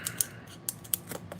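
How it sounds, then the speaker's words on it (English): Cheap scissors snip along a score line in card or plastic for a miniature diorama fire escape, a few sharp close crunching cuts in quick irregular succession with no talking. "if you create a score line like that, you can even use cheapo scissors, and usually it'll just cut just fine"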